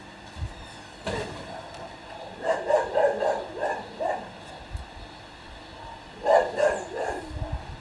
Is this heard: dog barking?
yes